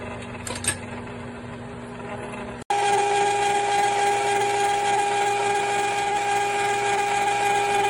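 A Cuisinart 2-quart ice cream maker starts up abruptly after a quiet moment and keeps up a steady, loud motor whine with a constant mechanical hum, close by.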